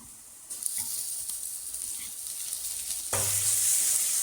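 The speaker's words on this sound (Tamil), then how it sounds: "வெங்காயம் தக்காளி நல்லா மசிஞ்சு வரதுக்காக நல்லா கிளறி விடுங்க." Onions and tomatoes for an egg gravy masala sizzle loudly in a pan as they are stirred. The hiss is steady and swells louder near the end, with no talking.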